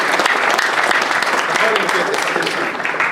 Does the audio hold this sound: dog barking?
no